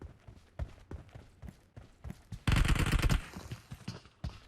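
Repeated sharp gunshots from a shotgun in a mobile shooter game played on an iPhone 16 Pro Max, irregular blasts with one dense burst of fire in the middle and clicks and footsteps between.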